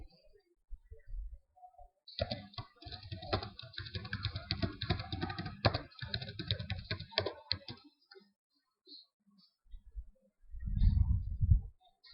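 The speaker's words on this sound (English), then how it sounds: "Here you can just type your name." A computer keyboard clatters in a dense run of close, rapid keystrokes for about six seconds as a name is typed, followed by a few scattered clicks and a low thump near the end.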